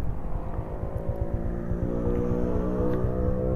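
A Honda XRM 125 Fi motard motorcycle engine drones steadily and loudly up close, its pitch rising slightly as it revs, with no talking.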